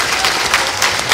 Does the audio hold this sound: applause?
yes